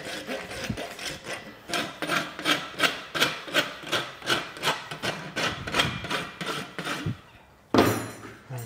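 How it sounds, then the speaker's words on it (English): A farrier's rasp files a horse hoof during shoeing, about a dozen rhythmic, close, gritty strokes in a steady back-and-forth pattern, then a brief pause and a final heavier scrape, with no voices. "we'll give it a rasp up"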